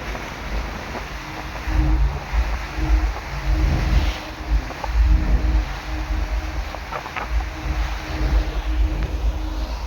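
Waves wash in and roll against the shore with a low rumbling surge after a cyclone, mixed with gusty wind buffeting the microphone.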